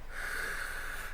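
A gaming laptop's cooling fan gives off a steady, airy whoosh with a faint whine, close and fairly quiet, running alone without any talking.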